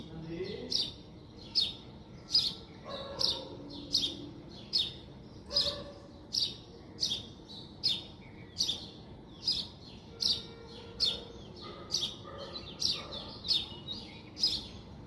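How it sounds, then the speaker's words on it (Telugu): Small birds chirp in short repeated bursts in the early morning, regular and fairly close, over a quiet outdoor background. "బర్డ్స్ అరుస్తున్నాయి. ఎర్లీ మార్నింగ్ చాలా బాగుంటుంది సౌండ్."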